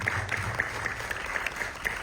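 An audience claps at a film screening and press conference, a thin, steady patter of applause with a few sharper individual claps standing out, moderately distant in a hall.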